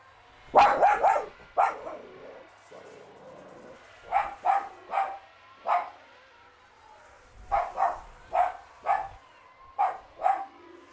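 A dog barks repeatedly at the postman, loud and close, in short bursts of several sharp barks separated by brief pauses, with a person's voice briefly mixed in.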